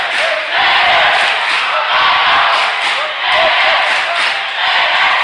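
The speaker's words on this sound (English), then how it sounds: "Our Raiders chant breaks through." A sellout crowd in a gym chants during a timeout at a Riverdale versus Mariner basketball game, with loud rhythmic swells of massed voices rising out of a constant roar.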